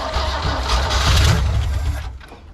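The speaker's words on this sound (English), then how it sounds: "Without the battery attached, it's still cranking this motor over. Let's just see if it fires it up real quick." A car engine cranked by a VTOMAN 2000A jump starter with no battery connected churns loudly for about two seconds, then cuts off abruptly.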